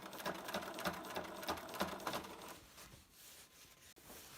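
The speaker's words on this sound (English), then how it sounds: "The closer to the edge you stitch, the better" Sewing machine topstitching close to the edge of a chore jacket seam, a steady rapid whirring run of stitches for about two and a half seconds, then quieter handling noise.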